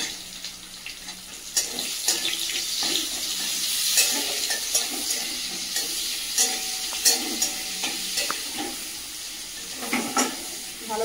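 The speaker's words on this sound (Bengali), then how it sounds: "দিয়ে দেবো কুচানো পেঁয়াজ" Chopped onions sizzle in hot oil with bay leaf and whole garam masala (cardamom, cinnamon, cloves), a steady broadband crackle close by, broken by repeated scraping stirs and soft utensil knocks, with no talking.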